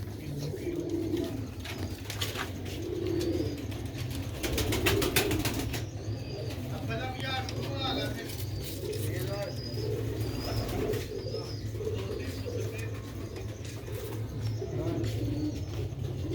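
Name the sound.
pigeons cooing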